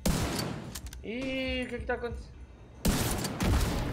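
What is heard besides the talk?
gunfire in The Division 2 video game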